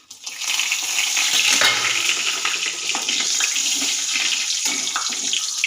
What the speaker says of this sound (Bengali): ওই তেলের মধ্যে একটি দারচিনি, দুটো এলাচ, দুটো লবঙ্গ, একটি শুকনো লঙ্কা, একটা তেজপাতা ফোড়ন দেবো।